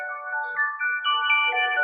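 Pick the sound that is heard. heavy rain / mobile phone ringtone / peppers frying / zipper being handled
mobile phone ringtone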